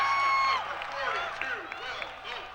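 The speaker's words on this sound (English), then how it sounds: "And listen to that crowd." Kings fans in a boys' high school basketball crowd roar after a three-pointer against Indian Hill, a sustained wash of cheering and shouts with a commentator talking over it.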